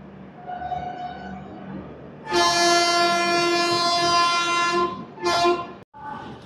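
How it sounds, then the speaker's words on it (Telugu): A Durg–Puri superfast express pulling into Cuttack station sounds a long, loud blaring horn blast, then a second short toot, over a low rumbling background. "సూపర్ ఫాస్ట్ ఎక్స్ప్రెస్ అయితే వచ్చింది."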